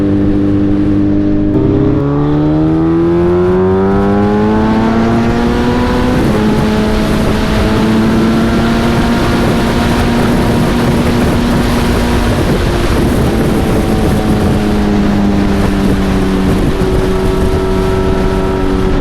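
A Suzuki Hayabusa motorcycle with loud aftermarket exhaust pipes roars as it rides. It pulls through rising gear-by-gear revs, each shift marked by a step in pitch, with heavy wind buffeting throughout and no talk.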